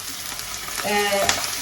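Chopped banana stem hits a pan of browned onions and sizzles steadily, with a brief stirring scrape; the frying is close and fairly loud, with no talk.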